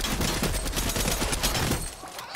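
Rapid video game gunfire crackles densely and loudly for about two seconds, a sustained burst of overlapping shots that cuts off abruptly near the end.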